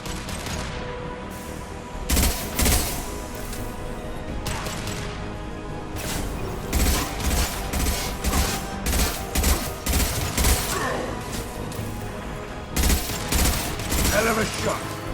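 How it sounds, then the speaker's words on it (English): Heavy high-impact gunfire in Mass Effect 2, single loud shots and clustered volleys cracking out repeatedly across the scene, with voices speaking between the bursts. "Firing an impact shot!"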